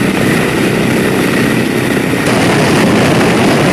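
Large four-engine propeller airplane taxiing along an airport runway, a loud, steady broadband engine roar that holds continuously without a break.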